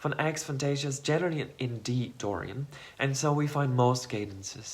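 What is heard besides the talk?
No distinct noise like a dog, phone or traffic.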